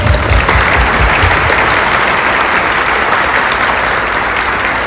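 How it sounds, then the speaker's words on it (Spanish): Audience at a talk applauding steadily, a dense wash of clapping from many hands at close range, holding for about five seconds with no talk over it. "Un aplauso para toda la gente."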